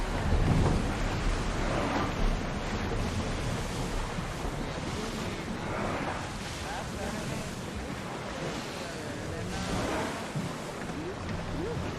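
A ship sails over sea waves in Assassin's Creed Odyssey, with continuous rushing surf and wind washing at a steady level and some voices underneath.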